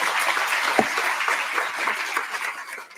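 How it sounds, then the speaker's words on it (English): Audience applause at a Pancakes & Politics forum, a steady spread of many hands clapping at moderate volume for about three seconds before thinning out. "Please give her a round of applause."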